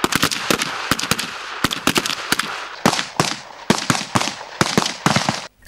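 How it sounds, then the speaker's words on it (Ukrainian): Sharp gunshots crack out in rapid bursts, many overlapping reports from several rifles firing at once at military target practice, loud and close. "З позиції стоячи стріляє військовослужбовець Станіслав Кравець."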